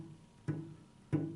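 A cello string pressed only partway to the fingerboard gives two short, dull, muffled plucks or bow catches about half a second apart, quiet and close, with no ringing sustain.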